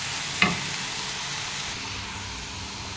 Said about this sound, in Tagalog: nagprito na po ako ng sibuyas, bawang at saka luya